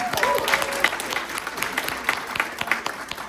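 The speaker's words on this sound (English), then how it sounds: "So we give her another round of applause" An audience at a K-Beauty company presentation at headquarters in Irvine, California gives a round of applause: continuous, fairly soft clapping from many hands with a few murmuring voices.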